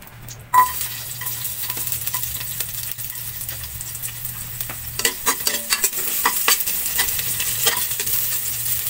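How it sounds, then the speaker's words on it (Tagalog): Garlic, onion and pork spare ribs sizzle steadily in hot oil in a pan, with a clink near the start and repeated scraping and stirring strokes later on. "Igisa muna natin ang bawang sibuyas at ang buto-buto ng baboy."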